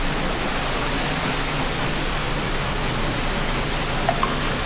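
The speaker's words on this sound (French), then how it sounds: "La cascade." A waterfall at Disneyland Paris, a steady, dense rush of falling water that fills the whole stretch evenly and loudly, with no talk over it.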